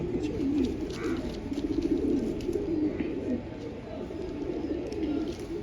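Pigeons coo steadily in a low, murmuring chorus close by, continuous throughout with no pauses.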